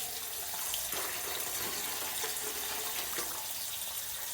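Tap water runs steadily into a container as it fills for soaking macrame cord before ice dyeing, a continuous close splashing rush with no pauses.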